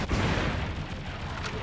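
Cannon fire from the shoot-'em-up video game Einhänder, a dense rapid barrage of booming blasts running continuously, loud and close with no talk over it.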